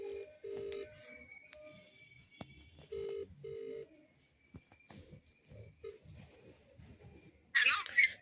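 A telephone being dialed and ringing at home, heard as several short electronic tone bursts in a stop-start pattern, followed by a sharp bright ring near the end, over quiet room noise.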